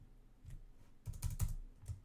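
Typing a place name on a computer keyboard, a quick burst of close key clicks in uneven clusters, clattering faster toward the end, with no talk.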